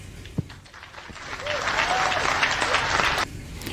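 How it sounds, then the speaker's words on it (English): An audience bursts into applause after a quiet start with a single sharp knock, the clapping swelling to a steady, dense roar for about two seconds and then dropping off abruptly, with a voice speaking faintly beneath it. "Big smile, big applause."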